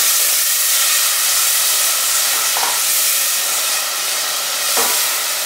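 Onion, carrot and celery sizzling in a hot pan for white onion soup, a steady loud hiss of frying throughout with a couple of faint clicks of stirring.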